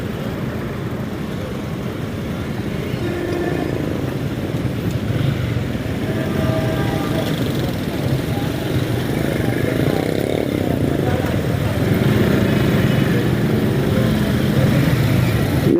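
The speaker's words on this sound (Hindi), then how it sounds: "एक हाथ से मैं बाइक चला रहा हूँ" A motorcycle ridden one-handed through city streets lined with police checkpoints from Shahdara to Harbanspura, its engine and road noise forming a steady, continuous drone that runs throughout.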